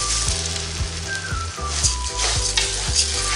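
Jeerakasala rice dry-roasting in a pan for Thalassery chicken dum biryani, a steady close sizzle with regular scraping stirs of a utensil against the pan, no voices.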